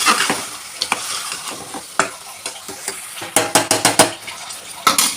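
Mutton trotters for paya being stirred in a pot after going in over softened tomato, a sizzling fry bed with repeated scraping and clanking spoon strokes against the metal, close and fairly loud, with no voices.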